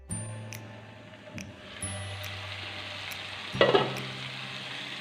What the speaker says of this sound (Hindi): अब हम इसको तकरीबन 5 मिनट के लिए लो फ्लेम पर ढक के रख देते हैं।